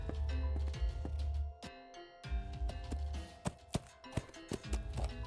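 Irregular horse hoof clops in the video game Willy Morgan and the Curse of Bone Town strike a hard surface at close range, some sharp and loud, over a steady musical hum with no speech.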